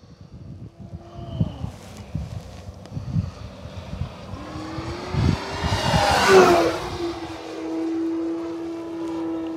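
A 58-inch Hangar 9 P-47 Thunderbolt electric RC warbird on a 6S battery takes off short field with flaps, its motor whine rising into a loud close pass before droning away, with scattered outdoor clatter.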